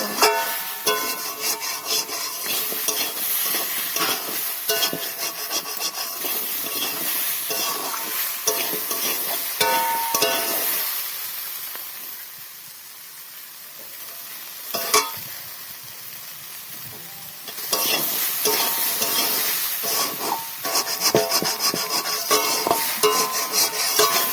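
Kohlrabi is stirred with salt in a hot pan, a steady sizzle of frying with scraping spatula strokes throughout, easing briefly in the middle before the stirring picks up again; no voices.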